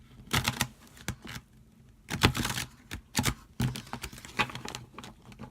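Tarot cards being shuffled by hand in a series of quick papery riffling bursts with short pauses between, close and fairly loud with no talking.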